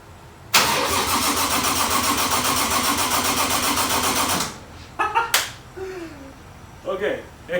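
A Toyota 1JZ engine swapped into a Nissan 240SX cranks steadily on jumper cables for about four seconds, loud and close, then stops, followed by a few clanks and brief faint sounds.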